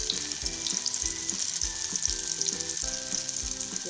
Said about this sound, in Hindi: तो यहाँ पे कबाब जो है वो फ्राई हो चुके हैं।